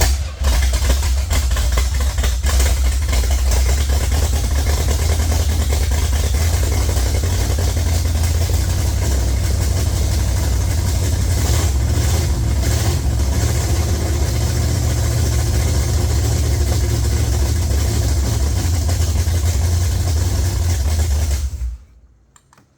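A Pontiac LeMans 400 V8 with a faulty accelerator pump runs close by in a steady, loud, rumbling idle that holds for about twenty seconds and then cuts off abruptly to silence.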